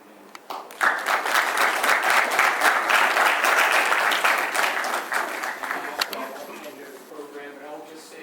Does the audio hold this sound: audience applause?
yes